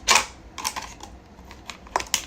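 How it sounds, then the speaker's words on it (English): Scissors snip excess plastic off a homemade teeth-whitening tray in a handful of sharp, close, irregular clicks spread across a couple of seconds, with no talking. "You'll just take your scissors and just go around the plastic,"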